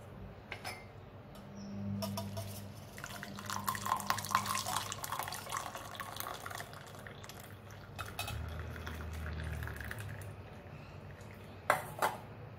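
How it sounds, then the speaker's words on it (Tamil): Mint tea being strained after the stove is switched off, with steady trickling and pouring of liquid, light clinks of cutlery and dishes, and a drip-like patter continuing over several seconds, close and moderately quiet with no talking. "இப்போ நம்ம வடிகட்டிக்கிறலாம்"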